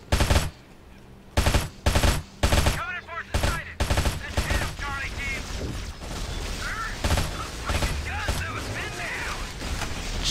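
Rapid gunfire in Halo SPV3 as several enemies open up at once, heavy bursts and single shots crackling loud and close in irregular volleys, with a voice talking between them.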